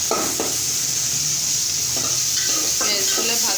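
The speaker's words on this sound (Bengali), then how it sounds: "পেঁয়াজগুলো ভাজা ভাজা হয়ে গেছে। রসুন দিয়ে একটু আদা দিয়ে দিলাম" Onions, garlic and ginger sizzle in hot oil in a pan while a fish-head and cauliflower dish is cooked, a steady hiss broken by a few scraping stirs of a spatula.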